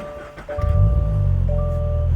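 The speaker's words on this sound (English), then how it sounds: "Let's start the car." A 2022 or later Toyota GR86 or Subaru BRZ engine cranks and catches, then settles into a steady, close idle with a constant low rumble and a faint high tone above it.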